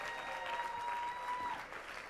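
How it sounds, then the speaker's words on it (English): A school board meeting audience gives a round of applause, steady clapping at moderate level fading slightly at the end. "Let's give everyone from Del Vallejo another big round of applause."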